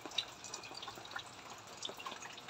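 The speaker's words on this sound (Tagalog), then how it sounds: "Tumutulo ko ngayon, umuulan ngayon." Rainwater drips outside a house in Cebu, faint scattered taps landing irregularly over a soft steady wash of rain, quiet and somewhat distant.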